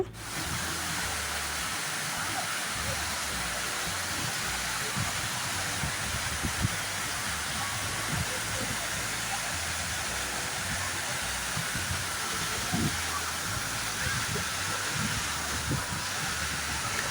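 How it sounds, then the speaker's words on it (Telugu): Kothapalli waterfall in Araku, set among big trees in hill country, roars with a steady, dense rush of falling water that holds constant and loud throughout, with no voices. "చూసారు కదండి పెద్ద శబ్దంతో ఎంత వేగంగా కిందికి వస్తుందో వాటరు ఇదేనండి కొత్తపల్లి వాటర్ ఫాల్స్"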